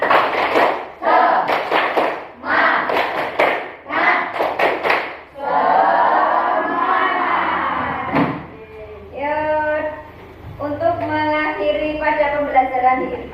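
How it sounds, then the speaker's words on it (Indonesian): A primary school class does the rhythmic 'tepuk semangat' clapping chant, sharp claps in grouped bursts led by a teacher's voice, followed by children chanting along together in a loud, near classroom. "sebelum diakhiri tepuk semangat dulu. Tepuk semangat."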